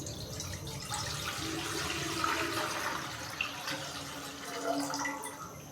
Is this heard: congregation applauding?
no